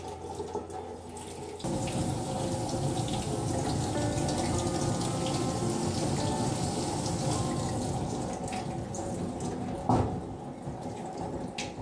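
Tap water gushes steadily from a hose pushed into a cut in a freshly caught spotted grunter's gills to flush out its blood, a close, continuous rushing stream muffled under a cloth, with one brief knock near the end.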